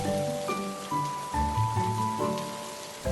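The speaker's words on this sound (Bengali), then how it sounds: "বৃষ্টি থামার কোনো নামই নেই" Rain falling in a cartoon scene, a steady patter on surfaces with a musical score carrying on over it, no voices.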